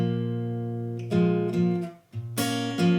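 Acoustic guitar playing a riff, a few ringing, plucked chords and notes with a short pause before the last strums, close and clear with no voices.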